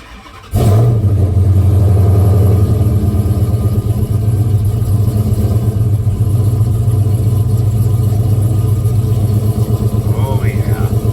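A Dodge Charger RT with a 5.7 Hemi V8 and long tube headers cranks and fires up with a loud bark, then settles into a heavy, lumpy rumble as it backs up nearby.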